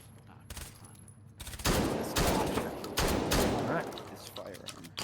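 Scorpion Evo submachine gun with drum magazines firing in a competitive shooter match, sustained dense bursts of rapid gunfire, loud and close, with overlapping shots and commentary-like voices underneath.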